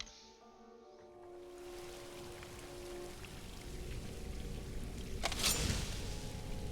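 Rain falling in the game Skyrim, a soft continuous patter that swells gradually and stays fairly quiet, with a short sharper splash late in the clip.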